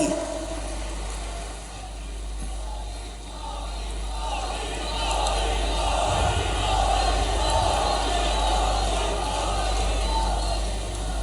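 A large rally crowd in Jabalpur greets Prime Minister Narendra Modi's arrival with a rising swell of applause and cheering that grows louder and steadier, while an amplified voice speaks over it.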